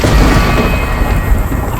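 On a stormy night, heavy rain pours down while deep booms of thunder roll through it. The noise is loud and constant with no voices.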